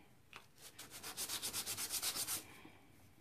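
Sanding off white paint on a miniature book, a quick run of about a dozen rhythmic rubbing strokes, close and fairly soft, alone.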